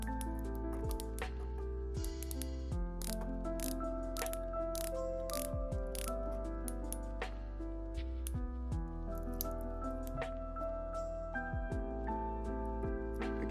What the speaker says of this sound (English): Watch features a 60 click bezel.